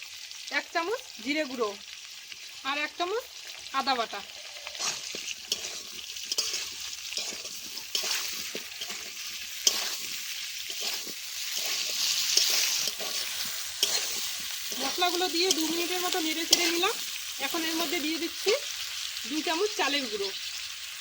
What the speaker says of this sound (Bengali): চালের গুঁড়ো দিয়ে তিরিশ সেকেন্ডের মতো নাড়াচাড়া করে নিলাম